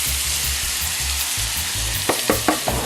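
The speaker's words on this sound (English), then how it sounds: "We're gonna be sauteing what is known as the Holy Trinity." Holy Trinity vegetables sauté in butter in a pot with a steady, close sizzle and frying hiss, broken by a few sharp stirring scrapes near the end.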